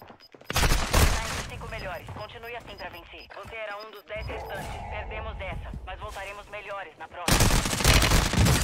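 Automatic and burst gunfire crackles loudly in a Call of Duty: Warzone match, heavy at the start and again at the end, while Portuguese-speaking players talk excitedly over the middle stretch.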